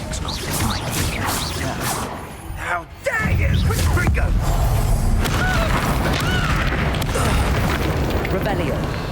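Confringo fire spell explosions in the wizarding game Hogwarts Legacy, heavy booms and crashes that rumble continuously through combat, briefly dropping out before a big blast lands, mixed with voices and game effects.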